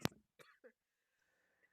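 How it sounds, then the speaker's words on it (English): A single sharp cough bursts out close to the microphone, followed by a brief throat noise and a faint murmur in an otherwise quiet room. "the poor cough is returned"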